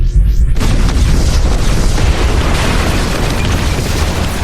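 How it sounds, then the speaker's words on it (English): A loud, sustained explosion effect for a sci-fi tabletop role-playing session, a deep rumbling boom that swells in after a short rising whoosh and keeps roaring with crackling debris for several seconds, with no talk over it. "The explosion happens, the shield forms just in front of the flames."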